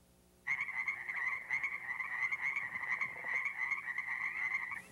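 Leopard frogs from the isolated Creston population in the Columbia Basin calling, a continuous rattling croak chorus that starts abruptly and carries on steadily, moderately close, with no voices.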